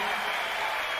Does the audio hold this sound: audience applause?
yes